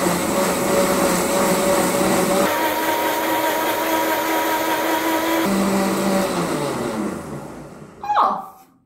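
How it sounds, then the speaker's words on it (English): A kitchen mixer runs loudly and steadily at close range with a constant whirring drone. Its pitch shifts a few times, then the motor winds down and stops near the end, followed by a brief clunk. "How do we use the mixer? We turn it on."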